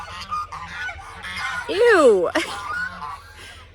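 Geese honking on a farm, a few loud, nearby nasal honks that rise and fall, with a person talking briefly.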